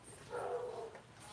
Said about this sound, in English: So I just heard a dog barking in the background.